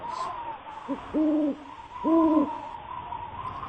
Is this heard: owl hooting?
yes